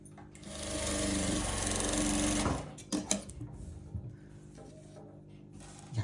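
A sewing machine runs a steady whirring, rattling stitch along the edge of a blouse sleeve for about two seconds, then stops, followed by a few clicks and handling noises of the fabric, close and without talk.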